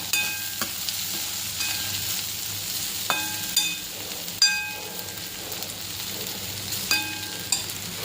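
Idlis fry in masala and are stirred, a continuous close sizzle broken by repeated clinks and scrapes of a utensil against the pan, with no voices.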